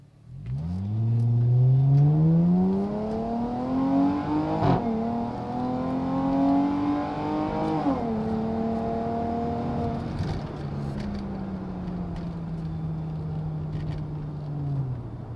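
A 2019 Chrysler 300S accelerates hard in Sport mode with traction control off, its engine note climbing steadily through several gear shifts, loud and close, then settling into a steady cruise.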